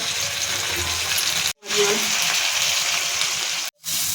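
Ground coconut, poppy seed and mustard paste goes into vegetables and drumstick leaves frying in a pan, a close steady hiss and sizzle with light stirring, cut off abruptly twice.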